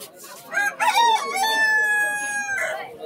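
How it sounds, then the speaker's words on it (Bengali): Chickens cluck and a rooster crows loudly nearby at a busy pet market on Galiff Street, with the crow's drawn-out call dominating amid market noise. "এখানে বন্ধুরা আপনারা মুরগিও পেয়ে যাবেন, যাদের মুরগির শখ আছে।"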